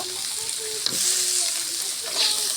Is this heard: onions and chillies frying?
yes